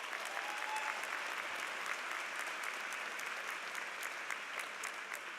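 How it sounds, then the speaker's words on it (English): A large graduation audience at a university commencement in Baltimore applauds a graduate, a steady dense wash of clapping that holds evenly at a distance with no voice over it. "Please give John a round of applause"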